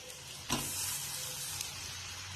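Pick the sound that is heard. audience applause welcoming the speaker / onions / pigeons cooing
onions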